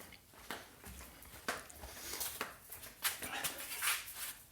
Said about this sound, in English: We have some little doggy friends with us who are hanging around.